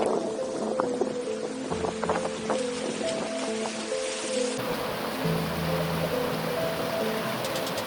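A river in The Narrows, Zion National Park, rushes steadily nearby, a continuous wash of flowing water with no voices.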